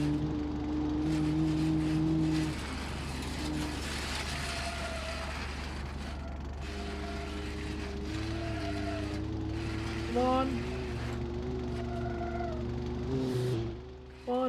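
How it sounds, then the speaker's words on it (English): A loose exhaust dragging along the ground under a struggling car, a continuous low scraping rumble with rattling and ratchet-like clatter, steady and moderately near, rising in places with brief squeals. "The exhaust is dragging."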